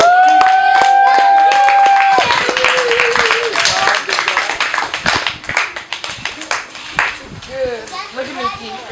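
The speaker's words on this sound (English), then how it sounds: "let's definitely everybody need to clap it up" Audience applause at a high school track awards night breaks out as a burst of scattered clapping, with people talking over the start before the claps build and thin out toward the end.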